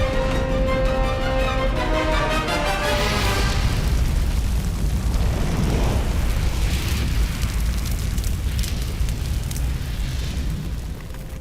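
A grassland wildfire in Mongolia, a loud, continuous roar and crackle of burning that fills the whole stretch, with a low rumbling body under bursts of hiss, close and steady throughout.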